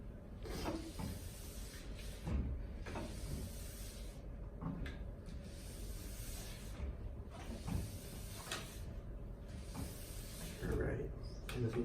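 Nylon brush stroking across a waxed ski base in repeated scrubbing passes, a steady close hiss with rhythmic swells, and faint talk underneath.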